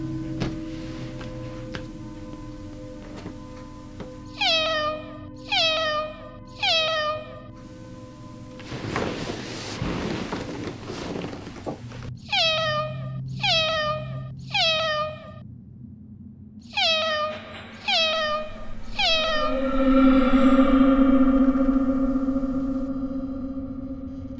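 Cat meowing indoors, several groups of two or three clear, tonal meows spaced a few seconds apart, with a brief burst of rustling or shuffling noise between them and a long, drawn-out cry at the end.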